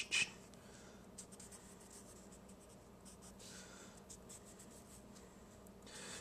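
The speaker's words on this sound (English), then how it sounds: "so I'm going to draw a Gaussian cylinder." A pen or marker scratches across a board or paper while a Gaussian cylinder diagram for a physics lesson is drawn, quiet continuous strokes and faint scribbling throughout.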